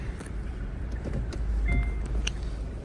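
A 2019 Kia K5 running on gas, driven a short distance, its engine a low steady hum inside the cabin with a brief whine and a few light clicks over road noise.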